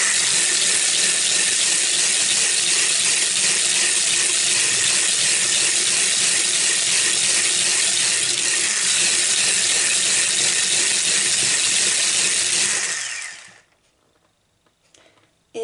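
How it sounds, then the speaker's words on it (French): A whisk beats chestnut cream cake batter in a close, continuous, even whirring churn that holds steady for about thirteen seconds, then stops abruptly and leaves near silence. "Donc je vais encore utiliser le fouet."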